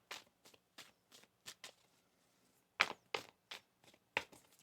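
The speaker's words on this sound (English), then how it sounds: "One more shuffle here." Tarot cards are shuffled by hand in a quiet room, a series of short crisp riffling bursts in an uneven rhythm with a brief pause midway, close and fairly soft.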